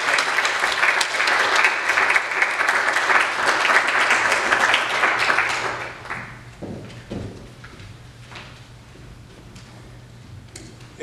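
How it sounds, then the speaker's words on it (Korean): A church congregation applauds to welcome a speaker, loud sustained clapping for about six seconds before it fades into scattered claps and quiet room noise. "나오실 때 우리 다 같이 박수로 환영하겠습니다."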